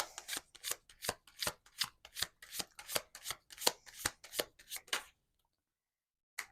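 Tarot cards are shuffled close up in quick, even riffling bursts, about a dozen and a half in a row, followed by a short silence and one last soft card sound.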